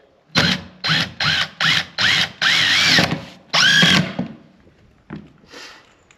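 A power drill drives screws into a DIY 8x12 tack room shed. The motor whirs loud and close in about six short bursts, then two longer runs, with a brief faint whir after a pause.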